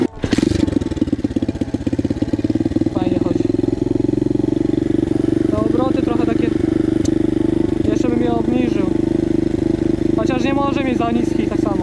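A turbocharged Loncin V2 motorcycle engine drones loudly and steadily the whole time, with someone talking intermittently over the running engine.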